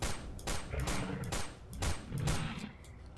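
Pistol fire in S.T.A.L.K.E.R. with the SGM mod: a burst of loud, close shots cracks out in quick irregular succession over a dense, rumbling background of game noise.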